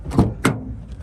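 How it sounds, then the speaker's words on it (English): The passenger side door of a 2017 Mitsubishi Lancer ES sport sedan opens with two short, close clunks of the latch and door. "Open up the passenger side door"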